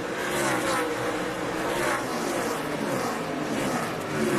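NASCAR stock cars roar around the Bristol short track during the 2006 night race, a continuous dense engine drone with shifting revs that stays loud and steady.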